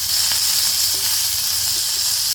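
Onion and garlic cloves roast in a spoonful of oil on a tawa, producing a loud, continuous close-up sizzle and hiss that holds steady throughout before cutting off abruptly at the end.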